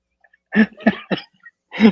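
A person coughs several times in quick, rough bursts, close to the microphone, in an otherwise quiet room.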